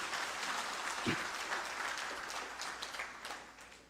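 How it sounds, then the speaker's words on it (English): An audience at a law college fraud and corruption forum claps in sustained, steady applause for a few seconds, heard at a moderate distance in a large room. "A thunderous applause."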